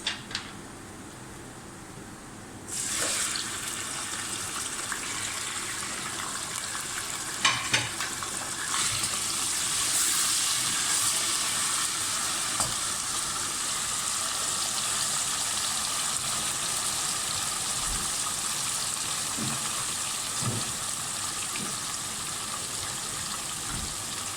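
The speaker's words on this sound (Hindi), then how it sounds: "गोश्त को अच्छी तरीके से इसको भूनेंगे" Meat sizzles and fries steadily in a hot pan with onions while cooking a shahi badami korma. The frying becomes a loud, continuous hiss after a quieter start, with occasional stirring clatters.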